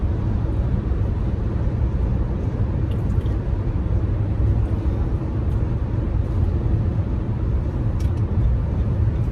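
A car overtaking on the highway at about 80 mph, heard from inside a moving vehicle as a steady, loud road and engine rumble with constant wind noise throughout.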